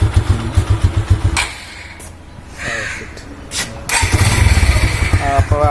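A secondhand 2021 Suzuki Gixxer single-disc motorcycle starts, thumping idle pulses up close with revving and pauses, while crows caw nearby and a person talks.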